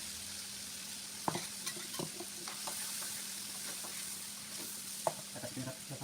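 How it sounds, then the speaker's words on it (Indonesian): Chili peppers fry in a pan while being stirred for an Indonesian village chicken and pineapple dish, giving a steady close sizzle with occasional sharp clacks of the utensil against the pan. "Nah teman-teman kita goreng cabai ini."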